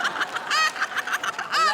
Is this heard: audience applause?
no